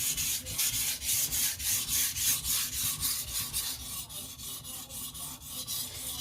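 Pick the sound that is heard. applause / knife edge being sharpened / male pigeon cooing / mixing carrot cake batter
knife edge being sharpened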